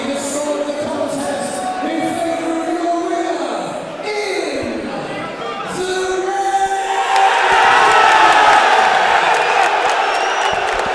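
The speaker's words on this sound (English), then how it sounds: "you can hear the crowd have loved every minute of it as well" Boxing crowd at a TB Promotions and One Punch KO Promotions fight night, cheering and whooping that swells louder in the second half, with a commentator speaking over the noise earlier on.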